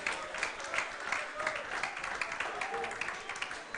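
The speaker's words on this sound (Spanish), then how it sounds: "Dense un aplauso en esta mañana." A church congregation at a Spanish-language Sunday morning worship service in Bonaire claps in a dense, steady burst of applause that fills the whole moment, with voices mixed faintly into the crowd noise.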